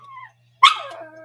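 A dog lets out one sharp, loud bark close by, after a softer whining tone, indoors during a live fantasy football draft stream.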